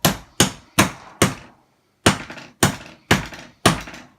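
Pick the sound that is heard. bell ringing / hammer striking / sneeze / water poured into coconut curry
hammer striking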